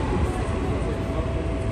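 A train arriving at a station makes a steady, broad rumble throughout, fairly loud and close, with a faint tonal hum and no distinct speech over it.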